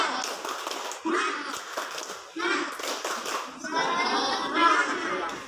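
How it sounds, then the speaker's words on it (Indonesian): A group of children chant and clap together in the 'tepuk semangat' clapping routine, with rhythmic bursts of hand claps under their voices, close and lively in a classroom. "Coba tepuk semangat dulu, bagi-bagi biar semangat."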